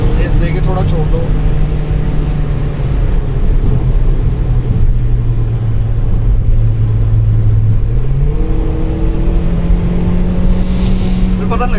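A Volkswagen Polo GT TSI engine drones steadily at close range on a late-night drive, then its pitch lifts sharply as the engine is revved. People talk over the engine throughout.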